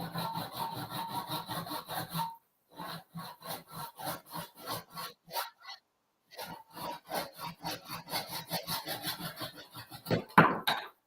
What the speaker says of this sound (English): Yep, I cut into the handle a little bit.